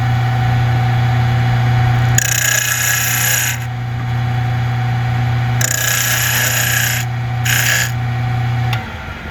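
Wooden angel wings being rounded off with a power carving tool, a loud steady motor drone broken by several harsh rasping bursts as the bit bites into the wood, no talk.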